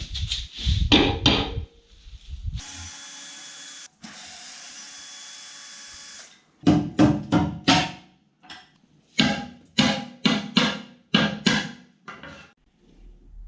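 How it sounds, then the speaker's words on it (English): Rubber mallet tapping while repairing SUP foil wings, bursts of quick repeated knocks in several clusters, separated by a stretch of steady machine-like hum, close and fairly loud with no talking. "This is a rubber mallet,"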